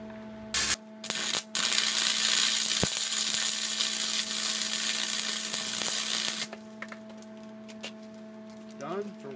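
A welder fuses a unicycle part in a factory, a loud steady hiss and crackle lasting about five seconds after a couple of short bursts, with machinery hum underneath.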